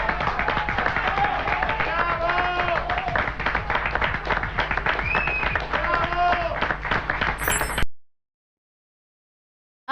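Applause fills a TV programme excerpt in a sustained burst of dense clapping, with voices talking and calling out over it, before cutting off abruptly to silence.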